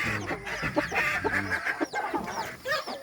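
Chickens on a farm cluck and squawk close by, a busy overlapping stream of short calls with a few higher, drawn-out cries over a constant background murmur.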